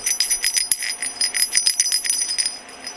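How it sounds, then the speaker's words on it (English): A small bell on a Doraemon toy jingles rapidly and steadily, bright metallic tinkles repeating close by for a few seconds with no voices. "Listen to his bell."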